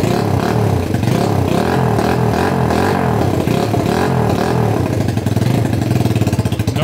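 A Honda CL125 motorcycle that sat stuck for 40 years runs after a kick start, its loud single-cylinder engine chugging close by in an uneven rhythm that steadies toward the end, with no talk.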